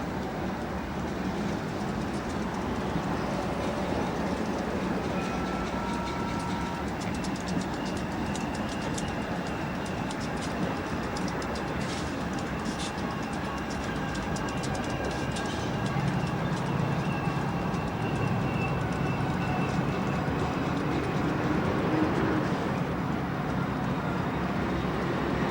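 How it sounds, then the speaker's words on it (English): A freight train arriving at Roseville behind a mixed set of locomotives, a Chicago & North Western Dash 8, SP AC4400, UP B40-8 and UP SD60M, rumbling steadily with rolling wheel noise and occasional squeals, sustained and fairly loud throughout. "A very interesting no two units the same consist comes into Roseville."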